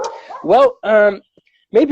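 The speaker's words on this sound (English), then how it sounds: "I'm sorry about the dogs barking." Dogs barking close by in short, loud, separate yelps with gaps of quiet between them, mixed with a person talking.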